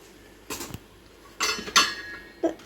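A utensil stirs fenugreek seeds in coconut oil in a pan, making a few short, quiet metallic scrapes and clinks in separate bursts against a hushed background.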